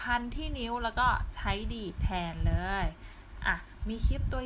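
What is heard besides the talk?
No everyday noises stand out.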